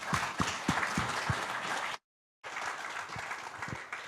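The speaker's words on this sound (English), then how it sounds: "A big round of applause for Manfred." Applause from a conference session audience for a speaker, moderate clapping that cuts out abruptly for a moment of silence and then resumes at similar strength.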